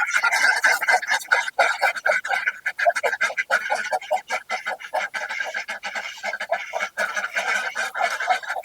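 A group of ducks quacking and honking continuously at close range, many overlapping calls in a busy, noisy chorus.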